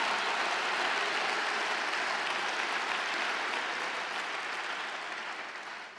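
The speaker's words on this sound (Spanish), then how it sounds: "Dale un aplauso al Rey bendito" A church congregation at a retreat gives sustained, dense applause, loud and even for several seconds before tapering off slightly near the end.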